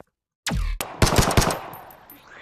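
Gunfire from a VR game in Boneworks on Quest: one sharp shot, then a quick burst of three or four more close, loud reports with short ringing tails.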